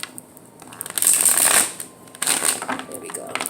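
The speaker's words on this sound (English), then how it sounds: "One more shuffle." Tarot cards shuffled by hand in a few quick riffling bursts, crisp and close, with brief pauses between them and no talking.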